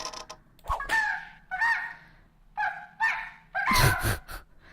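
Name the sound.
chicken clucking in a video game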